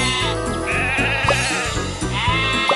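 Cartoon sheep bleat repeatedly in the Thomas & Friends Magical Tracks game, loud wavering calls over a bouncy, rhythmic music background.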